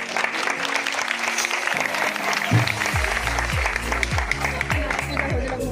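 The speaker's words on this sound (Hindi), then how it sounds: "एक बार ताली बजा दीजिए।" Guests clap at a church wedding, a steady patter of many hands that continues throughout while a low, droning tone enters partway and carries on underneath.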